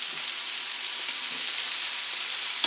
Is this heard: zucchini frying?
yes